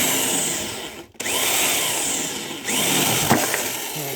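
Power drill with a 6 mm bit boring into a washing machine motor: a steady loud whine that briefly stops and restarts twice, close up, with no talk.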